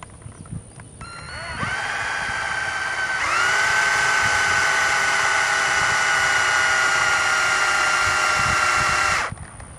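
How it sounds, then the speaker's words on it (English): A cordless drill whirs up briefly while twisting wire straight, then runs steadily at high speed for about six seconds before stopping abruptly, loud and close. "put in your cordless drill"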